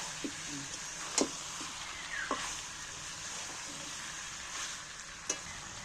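Faint sizzling of chicken frying with spices hisses steadily, broken by a few sharp scrapes and taps of a spoon stirring in the pan.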